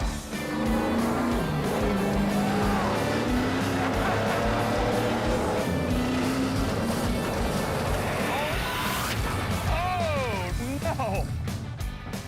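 An old race car on a dirt oval track: a loud, unbroken engine roar with rising and falling revs, heard under steady talk, with a sharp pitch swing near the end.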